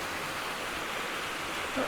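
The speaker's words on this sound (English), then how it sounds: "But these are those waterfalls" Waterfalls at Tarn Hows pour in a steady, unbroken rush of white water, even and moderately loud for the whole short stretch, with no other sounds standing out.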